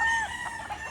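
White Kelso rooster crowing, a brief nasal crow fragment heard close and fairly clear over light background noise.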